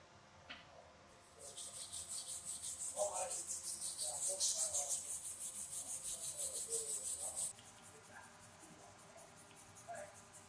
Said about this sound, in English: I like to sand off the shaft, get it nice and clean and pretty looking